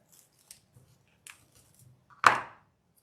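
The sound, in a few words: scissors snipping a pipe cleaner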